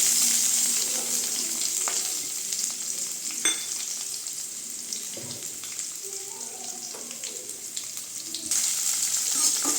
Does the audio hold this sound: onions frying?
yes